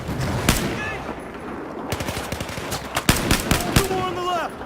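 Dense gunfire in the video game Battlefield 4: rapid machine-gun bursts and scattered shots with echoing cracks, continuous and close, with shouted voices mixed in among the shooting.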